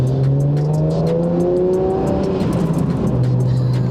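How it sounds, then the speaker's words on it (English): A BMW 1M with a 3-litre twin-turbo engine, loud and close, its engine note climbing steadily as it revs, then settling into a lower drone, with no voices. "this is a 3-litre twin-turbo engine"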